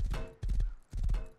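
Horse hooves in the video game Rust, quick clip-clop beats in two short bursts of several steps each, close and clear.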